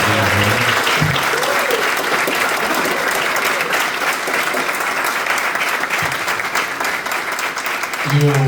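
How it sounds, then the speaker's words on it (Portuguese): An audience at a talk-session opening in Rio gives a long, loud ovation for an honoree, with dense sustained clapping throughout and voices briefly audible at the start and end. "eu peço uma salva de palmas para Oswaldo Martins Rodrigues Júnior"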